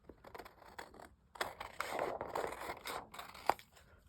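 Scissors snipping through acetate sheet for a garden window craft card, a run of close, quiet crisp cuts and scrapes with short pauses, no voice.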